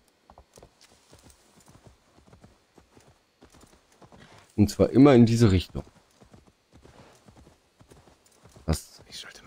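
A horse ridden in the video game Assassin's Creed Valhalla clip-clops steadily throughout, with a loud whinny in the middle, while someone talks over it.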